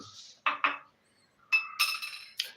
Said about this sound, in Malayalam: നന്നായിട്ട് ഇളക്കി കൊടുക്കുക നല്ല രീതിയിൽ മിക്സ് ചെയ്തെടുക്കുക